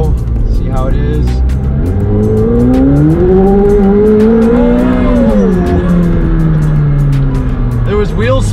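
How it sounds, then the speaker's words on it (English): A McLaren 765LT supercar accelerates hard with a little wheel spin, its loud engine note rising and sweeping steadily upward and then easing off, close and continuous, with a person talking over it. "There was wheel spin. There was a little wheel spin."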